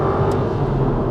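A facelifted Aston Martin Vantage with the 4.7 engine accelerating hard on a damp motorway, a loud, steady engine roar with a deep rumble heard from close by and no talk over it.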